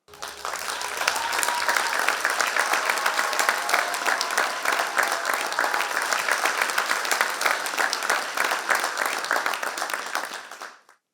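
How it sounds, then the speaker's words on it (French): Audience applause fills a hall at a youth performance event, rising quickly into dense, sustained clapping from a large crowd that stays strong for about ten seconds before cutting off. "Merci d'applaudir Sofia Olga."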